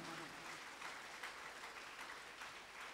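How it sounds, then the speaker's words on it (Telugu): Audience at a Shivaratri spiritual gathering clapping together, a faint, dense, even patter of many hands heard from a distance, sustained for a few seconds with a murmur of voices mixed in. "ఒకసారి గట్టిగా చప్పట్లు కొట్టుకుందాం మనకి మనం."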